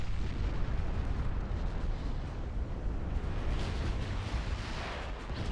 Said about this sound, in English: So there come my torpedoes, and we are scoring a lot of torpedo hits on these cruisers